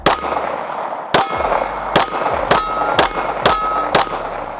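A competition pistol fires six sharp, loud reports in quick succession, each with a ringing metallic tail and short pauses between shots.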